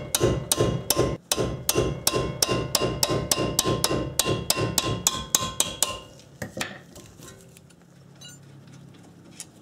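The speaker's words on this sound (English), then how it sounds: "I'm going to hit this with a hammer" A hammer strikes metal in a quick, steady rhythm, around eighteen ringing blows close by, then the pounding stops and a quieter clatter follows, while a Subaru EJ25 CV axle is removed with hand tools.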